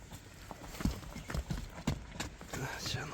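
A dark bay Kyrgyz horse with a white muzzle walking, its hooves clip-clopping in an uneven rhythm close by, with people talking over the steps.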